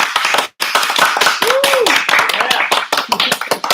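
Audience clapping at a livestreamed Q&A session, dense and steady with sharp hand taps, broken by a brief gap near the start, with a voice and a rising-falling tone sounding over it.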